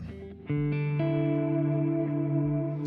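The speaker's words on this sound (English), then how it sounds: "So now that's that reverb" An electric guitar rings out through a Strymon reverb pedal, a few notes and a sustained chord blooming into a long, smooth wash of reverb tail at moderate volume.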